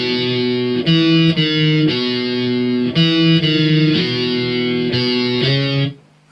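A distorted electric guitar plays the pre-chorus of a song, sounding as thick, sustained, buzzy power chords that change every second or so, loud and close with no talk, then cutting off.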